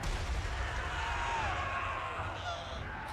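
Hell Cannon artillery shelling in the Total War Warhammer battle game, a continuous dense rumble of booming fire and crashes sustained throughout at steady loudness.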